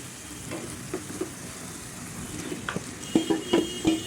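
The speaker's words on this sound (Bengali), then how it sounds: "ভেজে রাখা বেগুন ও ভেজে রাখা মাছ আমি কাঁটাগুলো ছেড়ে দিয়ে এগুলো একসঙ্গে মশলার সাথে দিয়ে দিব" Fried eggplant and deboned hilsa fish go into a pan of cooked-down spice paste, giving a steady close sizzle and frying hiss with scattered stirring knocks and scrapes that grow louder and more frequent toward the end.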